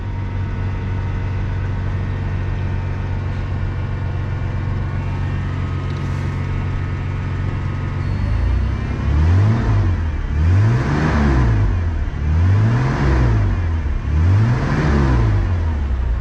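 An old Lariat pickup truck, started after sitting unused for over 15 years, idles steadily at close range, then revs up and down in four smooth rhythmic surges.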